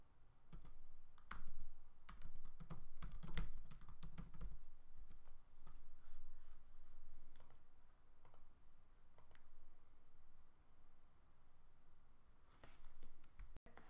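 Someone types a blog post on a computer keyboard, quiet, close clicking keystrokes in quick irregular bursts with short pauses in between, and no voices.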